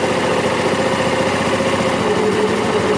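A running engine hums steadily with a low, slightly vibrating drone, its pitch drifting gently as the RPM rises and falls.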